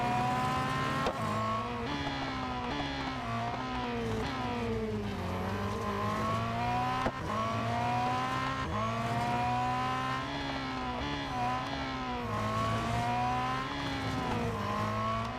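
A Ferrari race car engine in Real Racing 3 whines steadily through repeated gear shifts, with the pitch climbing and dropping in regular sweeps. It holds a constant loudness with no talk over it.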